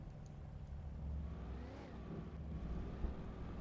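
A stolen car's engine runs in Alan Wake Remastered, a steady low hum that rises briefly as it revs, quiet and alone without speech.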